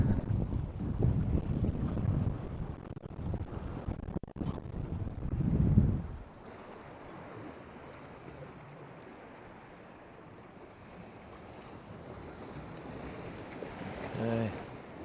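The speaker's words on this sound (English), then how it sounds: "So, the wind's picked up a bit." Wind gusting over a Globe 5.80 sailboat arriving at a harbour entrance after a transat qualifier, a steady roar and buffeting at the microphone, heavier with rumbling water in the first six seconds before easing to a softer, continuous rush.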